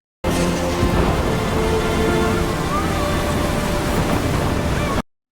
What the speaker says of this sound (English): Big ass storm.